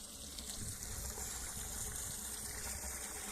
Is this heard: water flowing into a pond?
yes